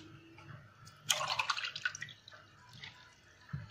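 About one and a half cups of water are poured into a pot holding three cups of sugar to make syrup, a short splashing gush with dripping and trickling that fades out, fairly quiet and close with no talking.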